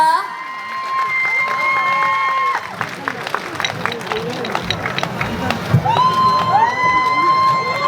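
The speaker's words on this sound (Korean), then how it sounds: "큰 박수 부탁드립니다" A large outdoor crowd at the Anseong Baudeogi Festival cheers, whoops and claps for a pansori singer's performance. The cheering is loud and continuous for about eight seconds, with high shouted voices rising above the hubbub.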